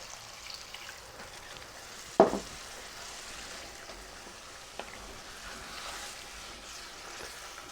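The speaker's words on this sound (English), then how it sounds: "That just deglazes the bottom, it just gets everything off there" Ground beef sizzles in a single pot as the bottom is deglazed for one-pot hamburger and fusilli, a steady, fairly quiet hiss broken by one sharp metal clank early on and a softer knock later.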